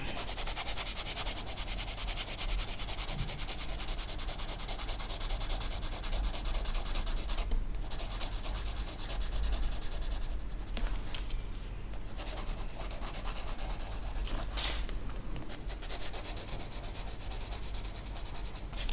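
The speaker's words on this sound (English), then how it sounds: "since I don't have to be too precise with my pencil strokes, as this is watercolor, I can work fairly quickly" Watercolor pencil strokes scratch quickly across the paper of a colouring book, a steady, faint, close rubbing with quick repeated strokes and brief louder scrapes.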